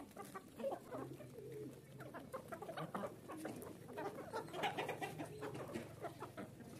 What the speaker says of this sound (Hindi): ये देखें जी कितने प्यारे मुर्गे हैं